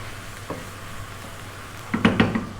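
Curry powder getting a brief, quick stir in a frying pan for vegan Indian vegetable fried rice: a short burst of close metallic clatter and scraping near the end, after a mostly quiet stretch.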